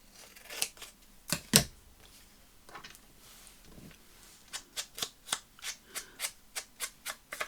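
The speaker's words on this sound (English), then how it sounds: "So I just want to cut it off about there." Scissors snip through a paper piece for a floral grunge concertina journal, with a few scattered cuts early on, then a quick, even run of crisp close snips near the end, no talking.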